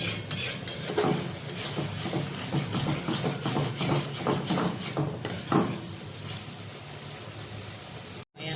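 A spoon scrapes and clinks in a pan while green chillies and kasuri methi fry in oil with garam masala, close metallic strokes over a continuous sizzle, the stirring thinning out toward the end.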